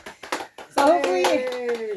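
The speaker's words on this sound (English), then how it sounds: "Yay, my family's clapping." A family claps at home on an Alaska homestead, a few scattered claps building into brisk applause, with voices cheering over it.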